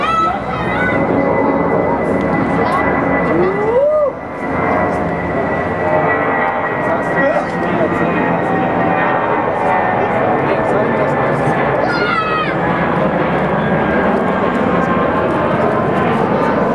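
An airplane takes off, a loud, steady roar that fills the whole stretch, with whining engine tones rising and falling over it, while people talk excitedly close by.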